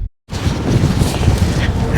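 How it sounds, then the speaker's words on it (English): Strong wind gusts outdoors at a new-home community, a loud continuous roar of buffeting wind noise hitting the microphone right after a brief silence. "it is super windy out here"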